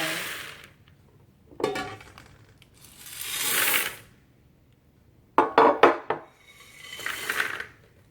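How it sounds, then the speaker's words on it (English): Snack mix ingredients, including mini pretzels, tumble and clatter into a large mixing bowl in several separate pours, each a short rattling rush followed by quiet. "combine all the ingredients together into a large mixing bowl"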